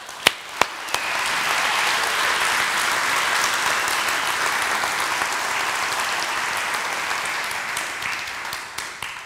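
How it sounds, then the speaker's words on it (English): A church congregation breaks into loud, sustained applause: a few sharp early claps swell into a dense, steady wash of clapping that holds for several seconds, with some crowd noise mixed in. "Give yourself a round of applause."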